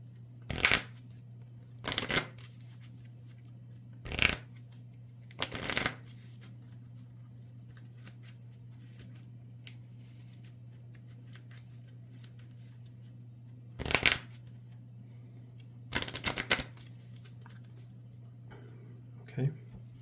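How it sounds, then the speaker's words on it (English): A deck of Marvel Champions cards is shuffled in several brief, crisp riffling bursts spaced across a quiet tabletop scene, with a steady low hum underneath. "So those get shuffled back into my deck."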